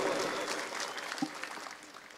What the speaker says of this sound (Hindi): अगर आप एक मर्तबा जोरदार तालियों से मेरा हौसला बढ़ा दे तो मेरी और हिम्मत बढ़ेगी